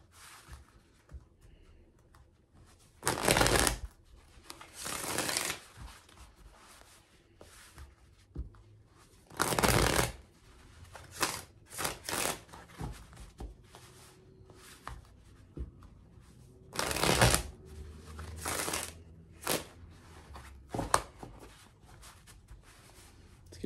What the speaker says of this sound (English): Two more shuffles for Leos.